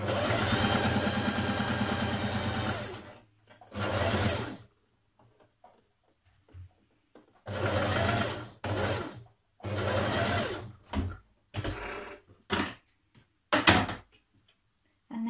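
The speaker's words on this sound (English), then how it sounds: "Try and get back in that line of stitching. Back tack again." A sewing machine stitches a blouse and back tacks, running in several distinct bursts: one long run, then short stop-start stretches separated by silence, loud and close with no talking.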